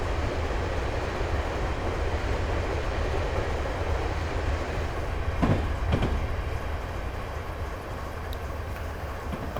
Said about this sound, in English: it's quite a long train moving at a fairly fast pace, probably about 55 miles per hour